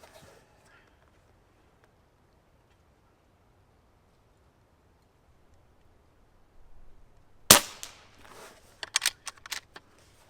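A sharp crack from an Umarex Gauntlet .25 caliber PCP air rifle breaks a near-silent stretch, followed by a few fainter clicks and rattles.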